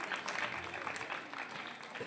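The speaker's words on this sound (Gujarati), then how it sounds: "તેમને પણ તાળીઓના ગડગડાટથી વધાવીશું" At a village primary school's Republic Day function, a crowd gives faint, distant applause, a soft continuous patter of clapping that stays level for a couple of seconds.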